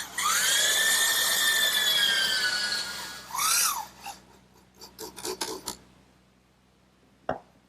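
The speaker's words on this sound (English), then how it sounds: "Before I drill any more, I'll fasten this with a drywall screw." A power drill drives a drywall screw into a wooden side panel of a rocking horse, the motor whining up in pitch for a couple of seconds, followed by a short burst and scattered clicks and knocks of the workpiece.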